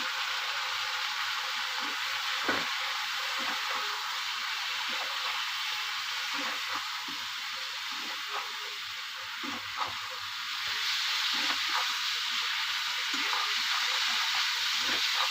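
Spiced ingredients seasoned with salt and turmeric fry in a pan with a steady, close hiss of sizzling oil and scattered small clicks, with no talking.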